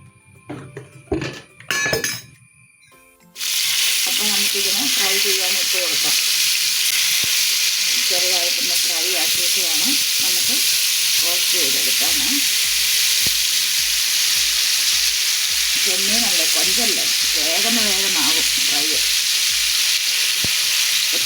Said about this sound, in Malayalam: ഇച്ചിരി എണ്ണ ഒഴിച്ചു കൊടുക്കുവാണ് അതിനൊന്ന് ഒന്ന് ഫ്രൈ ചെയ്തെടുക്കാൻ വേണ്ടിയിട്ട്